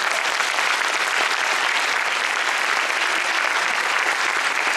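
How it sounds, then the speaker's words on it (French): A crowd at a testimonial talk gives dense, continuous applause that stays full and loud from start to finish, with no single claps standing out and no voices. "Je vais l'applaudir debout pour Moussa."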